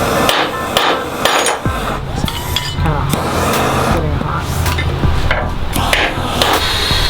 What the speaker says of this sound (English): We're trying to punch the rivets out